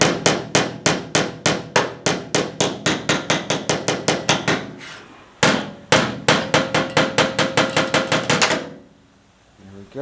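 Repeated sharp metallic hammer blows on a metal body panel while working out a dent, a fast even rhythm of loud close strikes with a brief pause midway, then tapering off into quiet.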